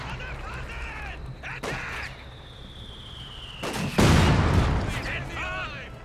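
Battlefield gunfire in the Stalingrad mission of the video game Company of Heroes 2, a loud burst of rapid shots and explosions near the end, with someone talking over the scattered earlier shots.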